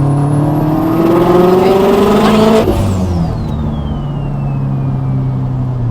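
An 800hp Subaru STI pulls hard at full throttle in third gear, its engine note climbing steadily and loudly before a sharp shift-like break, then a turbo whoosh and falling whine as the revs drop.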